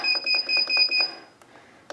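Electronic beeping from a heat press set to 285 degrees: a rapid series of short, high, evenly spaced beeps, then silence broken by a couple of faint clicks.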